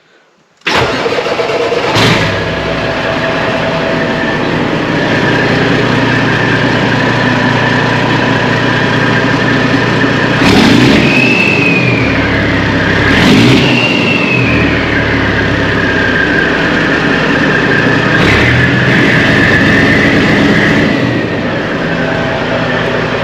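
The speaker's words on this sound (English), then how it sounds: "how much you're going to be able to hear, you know, through video of an engine running" The big diesel engine of a 2007 Kenworth T600 semi truck cranks and catches, then idles loudly with a couple of rising revs, close by and steady throughout.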